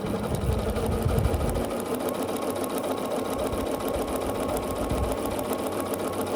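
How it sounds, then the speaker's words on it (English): A Bernina sewing machine stitches along a line on foundation paper piecing for a quilt block, a close steady mechanical whir with rapid needle ticks that changes pitch partway through, with no voices. "So I'm going to sew on the line between 1 and 2, and I like to back stitch at the beginning a little bit."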